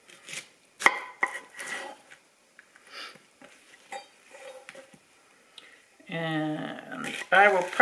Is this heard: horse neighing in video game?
no